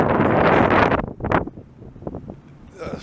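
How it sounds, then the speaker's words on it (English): Wind buffets a microphone outdoors on a city walk in Montreal's Ville-Marie borough, loud rumbling gusts that ease off into softer bursts, with a voice speaking briefly. "Fucking wind though."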